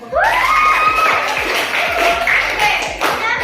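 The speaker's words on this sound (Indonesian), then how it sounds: "Kasih aplaus." A classroom group breaks into applause and cheering, dense clapping with excited voices and whoops rising together, loud and close, lasting a few seconds.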